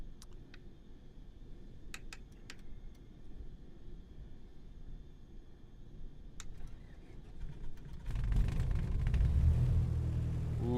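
A Cessna 152 light aircraft engine in Microsoft Flight Simulator 2020 turns over and catches, a low steady rumble building suddenly after a stretch of quiet cockpit ticks and clicks, then holding loud and even.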